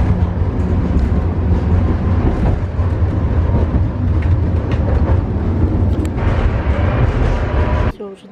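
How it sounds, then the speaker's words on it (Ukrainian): Tram ride in Odesa, with a continuous low rumble and rattle of the car in motion and occasional clanks, cutting off abruptly near the end. "Ми вже їдемо в трамвайчик."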